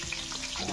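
Sliced onions, two medium ones, sizzle in hot oil in a pan for chicken pulao, a steady close crackle and hiss with no pauses over a short stretch.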